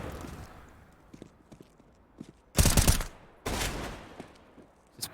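Counter-Strike gunfire on the Nuke map during a North versus forZe match at DreamHack Anaheim, with two loud bursts of shots standing out over quiet footsteps and ambient game noise.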